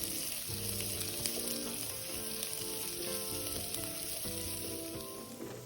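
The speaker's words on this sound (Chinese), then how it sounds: "锅里头倒入食用油2大匙，红葱片50克，倒入爆香" Shallot slices fry in two tablespoons of hot cooking oil in a wok, a dense, continuous close sizzle and crackle with light stirring throughout and no voices.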